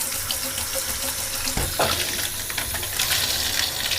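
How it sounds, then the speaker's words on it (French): Water runs steadily from a shower head fitted with a digital LED thermometer, a continuous hiss and splash that shifts in tone partway through as the flow changes. "Si vous allumez l'eau"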